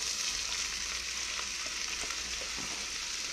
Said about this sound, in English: And we'll just saute them a little